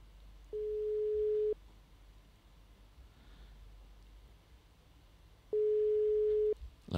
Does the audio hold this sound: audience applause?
no